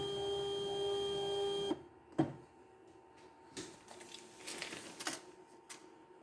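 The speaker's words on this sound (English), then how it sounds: "Spindle is coming down further." A CNC router spindle moves down, with a steady electronic whine and motor hum that cut off abruptly, followed by a sharp clunk and scattered faint mechanical ticks and clicks.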